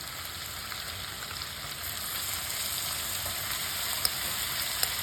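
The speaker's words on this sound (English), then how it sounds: "Now we will sauté it for 15 to 20 minutes until you see the butter is oozing out." Cooked carrots sauté in butter with cardamom for gajar ka halwa, a continuous soft sizzling hiss that stays steady throughout, with a couple of faint spoon clicks near the end.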